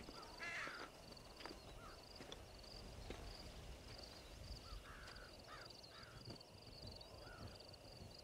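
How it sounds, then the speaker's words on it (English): Crows cawing in the open outdoors of Red Dead Redemption, several scattered harsh caws at a distance over quiet ambient wind, with no voices. "I don't see anybody. Just some crows."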